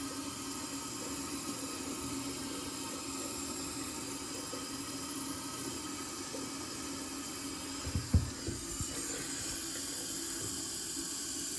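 Tap water runs steadily into a bathroom sink with a chrome bottle trap under a dripping sink waste, a continuous hiss with a few brief knocks near the end.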